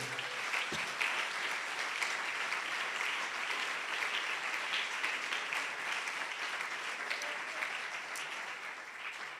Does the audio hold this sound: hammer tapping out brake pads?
no